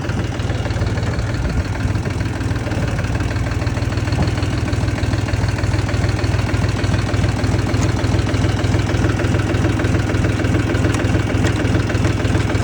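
A 2012 Dyadya Fedya 244 tractor engine runs loud and close throughout with a steady diesel knocking rumble while it is shifted into reverse.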